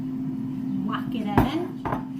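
Food being tipped into a pan on the heat for a home-cooked supper of peas and carrots, with a couple of clattering knocks against the pan over a steady low hum.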